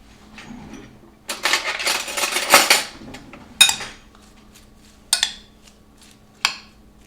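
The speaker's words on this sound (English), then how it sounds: "I'm going to add a couple tablespoons of chimichurri sauce, and we're going to mix it" Cabbage and corn tossed with chimichurri sauce in a bowl, a burst of clattering utensil scrapes followed by several sharp clinks against the dish, close up with no talking.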